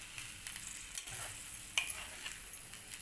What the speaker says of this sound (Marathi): आता एक उकळी येऊन द्यायची आहे आणि 10 मिनटं बारीक गॅसवर शिजून घेऊयात।